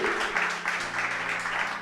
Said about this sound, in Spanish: ¿Por qué no le damos un aplauso al Señor, hermanos?